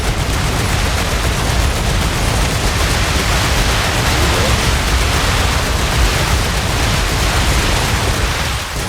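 Gunfire rips steadily at swarming bugs in StarRupture, a dense, unbroken wall of loud shooting and noisy impacts holding at constant intensity throughout with no pauses.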